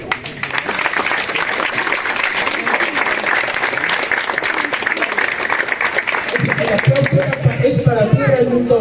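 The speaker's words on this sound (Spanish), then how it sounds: "Vamos a darle un fuerte aplauso." Loud, sustained applause from a crowd gathered at a religious procession and mass for San Francisco de Asís in Jiutepec, Morelos, with clapping steady throughout and voices and music-like tones rising near the end.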